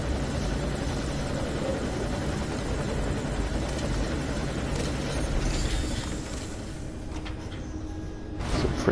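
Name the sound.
helicopter flying in video game Metal Gear Solid V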